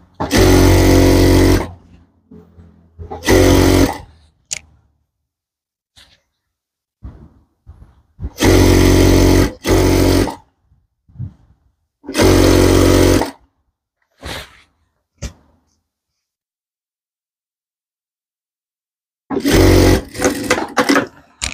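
Sewing machine stitching fabric in several separate loud bursts of steady whirring, each a second or two long, with quiet pauses between runs and no talking.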